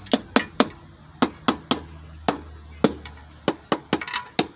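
A hammer taps sharply on the metal valve cover of a 2006 Kia Spectra engine about a dozen times in an uneven rhythm, each knock a bright, close clank.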